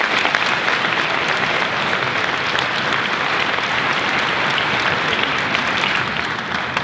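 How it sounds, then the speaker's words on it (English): Steady, dense applause from a concert audience at a school honors band send-off event, loud and continuous for about seven seconds with no talking. "So, can we give them a round of applause?"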